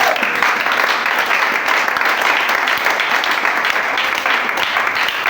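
A church congregation applauds and cheers in praise of the Holy Spirit, a loud, dense, sustained wash of many hands clapping from start to finish.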